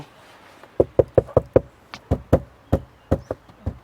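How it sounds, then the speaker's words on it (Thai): Knuckles rap on the rear cargo floor panel of an MG VS HEV 1.5 hybrid: about fourteen hollow, close knocks in quick uneven bursts, loud and clear with no talk. "ที่เคาะได้นะครับเพราะว่าเขามีแผ่นกันนะครับ"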